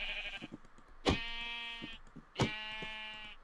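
Two loud, harmonic sheep bleats in Minecraft, each a drawn-out wavering cry, separated by a short pause, with faint game footstep clicks and ambient noise between them.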